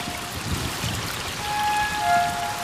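Steady rain falls during the rainy season at the Maya site of Copan, a continuous close patter of drops with no voices, swelling slightly toward the end.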